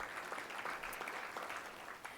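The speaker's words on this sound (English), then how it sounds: "Please give them all a round of applause." Applause from a conference audience for event sponsors at a community conference opening plenary, a steady fairly quiet wash of many hands clapping that continues throughout without pause.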